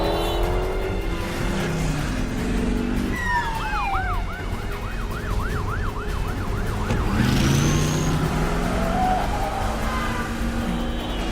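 A car chase from the action film Jason Bourne in Las Vegas brings a loud wailing police siren cycling up and down over roaring engines and traffic noise, close and intense throughout.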